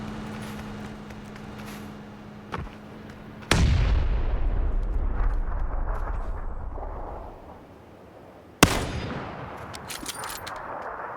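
Gunfire in PUBG Battlegrounds: two sharp, heavy booming shots several seconds apart, each followed by a long rolling echo that fades slowly, over a quiet ambient background.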